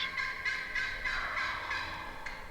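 Wild turkey gobblers gobble repeatedly, close by, in rolling overlapping bursts that rise and fall for a few seconds in an outdoor hunting setting, with no talking.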